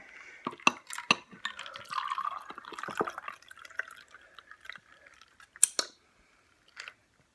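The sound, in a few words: pouring bourbon into a glass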